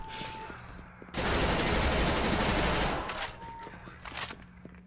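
Gunfire in the Lost Industry 2 game mod, a loud sustained burst of rapid automatic fire lasting a couple of seconds, followed by a few scattered shots and a voice in between.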